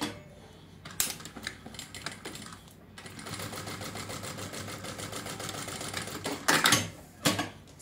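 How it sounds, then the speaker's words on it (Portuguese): A sewing machine stitches seams along each side of a crossbody bag strap, whirring steadily with a rhythmic needle chatter, close and loud, broken by short pauses and a few sharper handling knocks near the end. "Ó, então já fiz a costura de cada lado."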